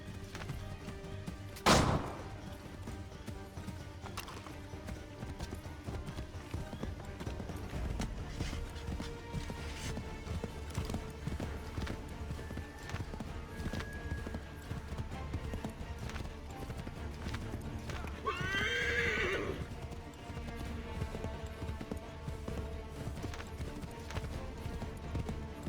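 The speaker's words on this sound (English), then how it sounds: "And the horse cannot turn tight corners." Horse hooves clip-clop at a steady gallop in the Assassin's Creed 3 video game, with a brief whinny near the start, all under a continuous bed of game music and ambience.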